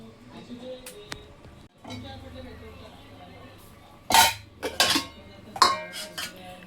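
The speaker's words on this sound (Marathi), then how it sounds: "आता हे झाकण लावून ठेवते" A lid set onto a cooking pot in a home kitchen, giving a few sharp metallic clanks and rattles near the end, heard close over low background hum and faint talk.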